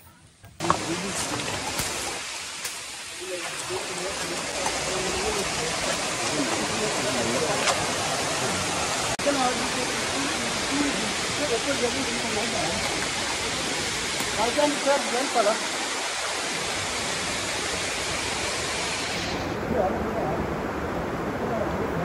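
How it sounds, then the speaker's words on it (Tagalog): A waterfall on Mt. Kiadangat in Maria Aurora, Aurora, roars as a constant, dense rushing wash that stays loud and unbroken throughout, with brief dips near the start and middle. "makikita mo na ang pangalawang pinakamataas na waterfalls dito sa Kiyadangat"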